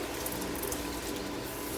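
About half a cup of water pours into a pan of spicy masala cauliflower, a steady close splashing rush that fills the whole moment without pause.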